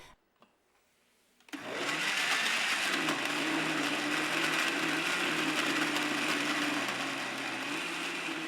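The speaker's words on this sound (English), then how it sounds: "Now blend everything together until you have a well-mixed liquid paste." After a short quiet start with faint handling noise, a blender switches on abruptly and runs steadily, whirring as it purees curry paste ingredients with a quarter cup of water, its motor drone continuous and loud until the end.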